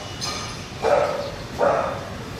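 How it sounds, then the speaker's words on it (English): A dog barks twice in an apartment in Saigon, Vietnam, two evenly spaced mid-range yaps from a short distance away over a steady background hum. "Not just dog barking"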